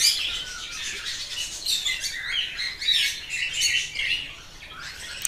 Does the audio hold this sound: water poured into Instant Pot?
no